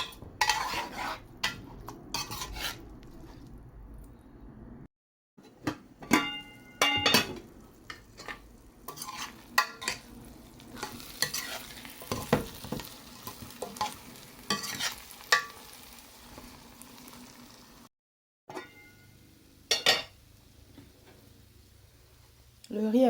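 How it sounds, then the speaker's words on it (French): Rice with soumara cooks in a pot while a spoon stirs and scrapes it, giving clinks and soft sizzling bursts at irregular intervals, with brief pauses and a person talking over it. "je vais laisser le riz cuire normalement"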